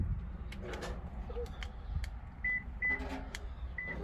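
Three short, high electronic beeps from a Toyota Camry's locks sound at uneven intervals during remote key programming, over quiet background noise and a few soft clicks.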